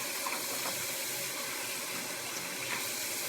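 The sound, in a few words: water rinsing out makeup box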